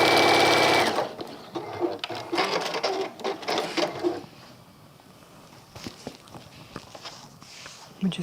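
Sewing machine stitching around a fabric circle for a contrast caddy, a loud fast mechanical whir for about a second, then stops, followed by softer intermittent clicks, handling knocks and light fabric rustles.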